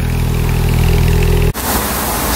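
A Porsche 911 Carrera S (991.2) engine idles loudly and steadily up close, a deep even rumble that shifts briefly partway through before settling again.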